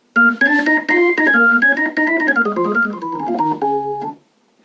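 Hammond organ upper manual with percussion switched on, a short run of notes each with a crisp added attack, descending to a held final chord that cuts off; clear, moderately loud, no voices.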